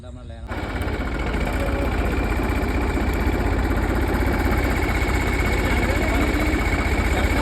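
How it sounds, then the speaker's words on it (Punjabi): A steady, loud engine drone of tractors runs throughout, rough and continuous like a heavy diesel idling nearby, with no break or change in pitch. "ਸਾਹਮਣੇ ਜਿਹੜੇ ਟਰੈਕਟਰ ਇੱਧਰ ਵੀ ਚੱਲੀ ਜਾਂਦੇ ਆ"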